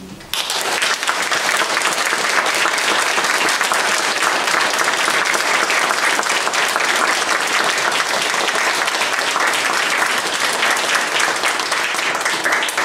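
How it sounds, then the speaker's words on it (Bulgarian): An audience applauds a group of small children at a kindergarten celebration of Bulgaria's national holiday, 3 March; loud, dense clapping starts almost at once and holds steady and full for the whole stretch. "Само ви моля да аплодираме тези невероятни малки българчета."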